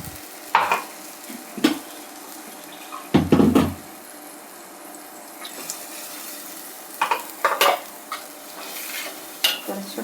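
Hot water stirred into a ground curry paste in a pot, with a few short bursts of stirring and splashing over a steady background hiss, no talking.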